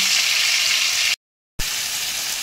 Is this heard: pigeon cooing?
no